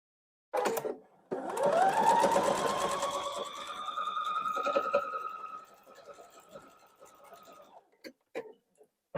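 A sewing machine stitches quilt block fabric pieces in a steady motorized whirring run lasting several seconds, slowing and stopping with a few short bursts afterward, close and clear.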